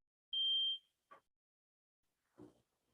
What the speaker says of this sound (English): I just pressed it and it's like, beep, beep.